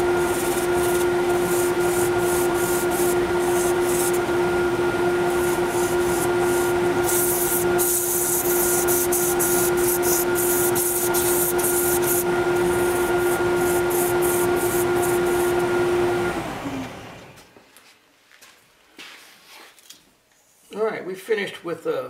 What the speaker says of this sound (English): Finished with a 100 grit, and I'm checking to be sure that there's no evidence of any tear out from the chisel